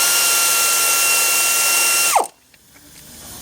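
A power ratchet or impact tool whirs steadily on a bolt holding the water pump bracket of a Mitsubishi engine during a timing belt job, then winds down abruptly, leaving near silence with a few faint clicks.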